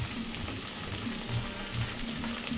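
Plantains sizzle steadily in hot oil in a pan, a soft continuous frying crackle with no talk over it.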